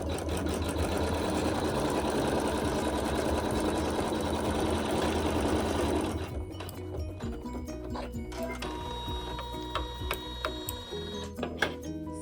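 A sewing machine stitches a quilt block seam, a fast, steady mechanical whir that runs loud for about six seconds, then slows to lighter, uneven clicking and ticking as it stops and starts.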